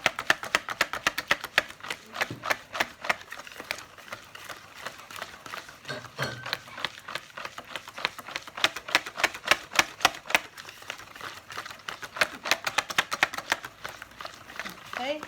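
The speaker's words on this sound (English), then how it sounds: "I'm going to mix the flour in." Rapid, steady tapping and scraping of a utensil in a bowl as flour is mixed into tart batter, a close, busy rhythmic clatter lasting throughout with a voice talking over it.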